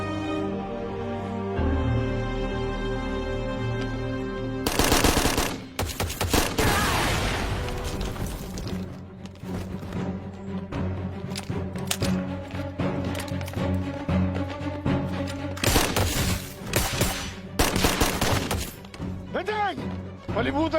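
Bursts of gunfire crack out in a TV drama shootout at a mansion, loud clustered volleys separated by gaps, over tense background music.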